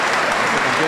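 Audience applause at an orchestra concert celebrating an anniversary, a dense, loud, continuous wash of clapping from a large crowd filling the short moment.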